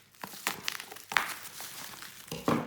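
A cardboard package holding original Sony PlayStation games is cut open, giving a few short, close crinkling and tearing scrapes spread over a couple of seconds at moderate to low loudness, with no talking.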